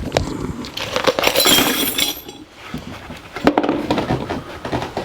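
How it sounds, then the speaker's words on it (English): Nuts and bolts tip into a tumbler with bursts of bright metallic clinking and rattling, two main pours separated by a brief lull, loud and close. "Pour the nuts and bolts in."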